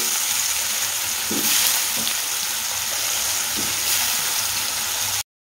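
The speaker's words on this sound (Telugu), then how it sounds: "ముక్కలు అయితే వేసేసుకున్నానండి. ఇప్పుడైతే ఒక్కసారి ఫ్రై చేసేసుకుందాం." Raw plantain pieces frying in oil in a pan give a steady, close sizzle that runs the whole time, with a few soft knocks and stirs and no talking.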